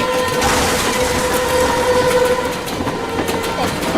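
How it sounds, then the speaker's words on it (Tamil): A cartoon train rumbles close by with steady clattering and a sustained horn-like tone, loud and continuous throughout. "ட்ரெயின் நம்ம பக்கத்துல வந்துருச்சு."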